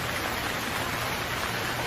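Heavy rain in a Hindi children's cartoon pours down as a dense, even hiss that fills the whole stretch without pause, with no voices over it.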